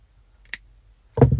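Scissors snip through crochet yarn: a faint metallic click as the blades open, then one short, crisp cut close by, with no talk.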